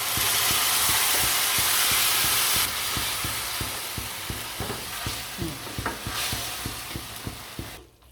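Ground tomato sizzles loudly in a pan for a raw banana curry, with a spoon scraping and stirring in a quick, regular rhythm over a steady frying hiss that softens partway through.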